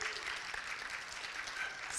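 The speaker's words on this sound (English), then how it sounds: "A little bit louder. Clap harder." Audience at a TEDx Wiley University event clapping hard and steadily for about two seconds, a dense, even wash of applause filling the room.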